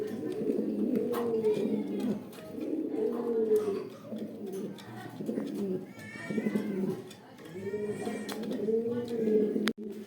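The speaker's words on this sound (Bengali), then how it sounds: "এটা কি ইন্দোনেশিয়ান শৌখিন কবিতরের মাদি" A female Indonesian fancy pigeon coos repeatedly and close by in a market setting, its low rolling calls coming in several bursts, with occasional faint voices and background clatter.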